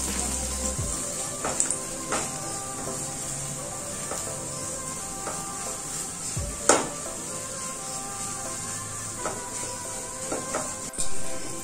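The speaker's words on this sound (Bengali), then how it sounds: "এবার ডিমটাকে আমি হালকা করে ভেজে নেব।" An egg with a little salt fries lightly in a kadai, a soft continuous sizzle broken by occasional scrapes and clinks of a utensil, close by and without talk.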